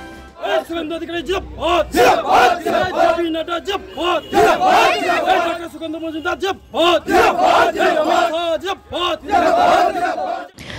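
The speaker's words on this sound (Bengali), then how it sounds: "পরে সমবায়ের সামনে জয়ের সাফল্যে বিজেপি নেতাকর্মীরা স্লোগান দেন।" BJP workers chant victory slogans in front of a cooperative after an election win, a loud crowd of voices shouting in rhythmic, repeated call-and-response bursts without pause.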